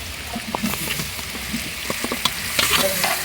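Ginger garlic paste and tomato fry for mutton biryani with a close, crackling sizzle, broken by repeated scraping and clinking stirring strokes.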